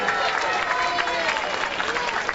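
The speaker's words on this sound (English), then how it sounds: "A big round of applause for them." Crowd applause for a parade band at an Irish day street festival outdoors, broad steady clapping and crowd noise filling the whole stretch at an even, fairly loud level.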